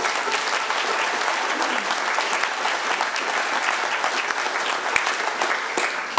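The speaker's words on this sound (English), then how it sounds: "I think that's worth a round of applause." An audience at a 25th anniversary concert by the Sheringham Shantymen bursts into sustained, dense applause that holds steady and loud throughout.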